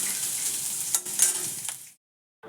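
Diced potato and ginger sizzle into onion and garlic frying in a hot wok, a steady bright crackle with a few sharper pops, ending abruptly in silence before a brief return.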